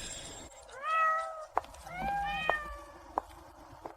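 A cat meows several times in rising, drawn-out calls, close and fairly loud, with a few sharp clicks or taps between them and no speech.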